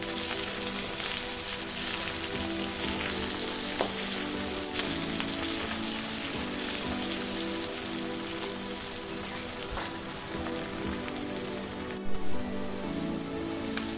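Curry leaves and fenugreek leaves sizzle in hot oil for a tomato and drumstick curry, a steady, dense crackling hiss that runs without a break, with a brief louder burst near the end.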